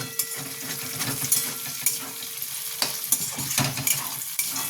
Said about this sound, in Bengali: দেখুন চিংড়ি মাছটা প্রায় ভাজা ভাজা হয়ে গেছে